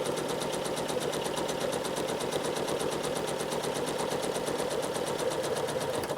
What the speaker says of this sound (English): I'm just going to stitch kind of an organic curve on this side, hit that line, and then travel stitch back.